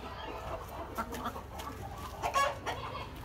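A hen laying eggs clucks softly and intermittently, with a few brief close clucks rising over a faint background hum.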